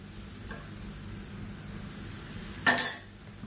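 Mysore pak mixture cooks in hot oil with a soft, steady sizzle, then a short burst of spoon scraping against the pan near the end as it is stirred.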